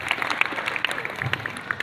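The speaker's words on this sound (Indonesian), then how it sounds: "Tepuk tangan buat kita semuanya." A school crowd at an elementary school prayer gathering claps in a short burst of dense, bright hand claps, fairly close and steady for under two seconds.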